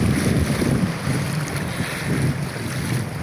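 Wind blows hard across open water, a constant loud rushing and buffeting with low rumble and no voices.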